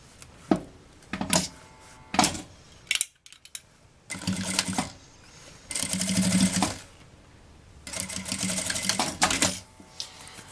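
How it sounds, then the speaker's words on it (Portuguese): Domestic sewing machine stitching bias binding onto the bottom of a handmade bag, heard in several loud, close bursts of rapid mechanical whirring separated by short pauses, with light handling clicks between runs. "Formou esse viezinho, a gente passa a costura."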